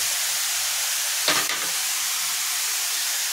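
Carrots tossed into a hot pan for veg manchurian bring a short burst of louder sizzling over a steady background hiss of frying, then the hiss settles back to an even level.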